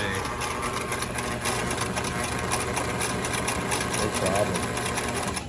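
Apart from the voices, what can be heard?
sewing machine stitching through four layers of leather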